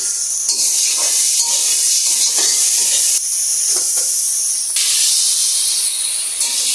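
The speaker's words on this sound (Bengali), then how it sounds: "মশলাটা কষানো হচ্ছে যাতে কাঁচা কাঁচা ভাবটা চলে যায়।" Ground coriander and cumin being sautéed in a pan: a loud, close, continuous hissing sizzle with occasional stirring scrapes and shifts in intensity, and no talking.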